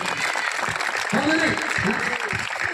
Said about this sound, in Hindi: जोरगी ताली मारिबा